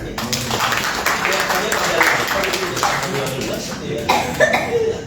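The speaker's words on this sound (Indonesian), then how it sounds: "Bisa tepuk tangan, saudara?" A church congregation applauds together, a dense, steady wash of clapping that fills the hall for several seconds, swelling slightly near the end, with scattered coughs and murmuring voices mixed in.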